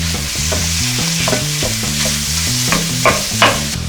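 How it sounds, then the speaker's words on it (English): Beef browns with softened onions in hot oil in a pan, a steady sizzle broken by repeated stirring and scraping, with occasional louder pops near the end and no talking. "Saute the onions until they're just soft. Then the beef goes in."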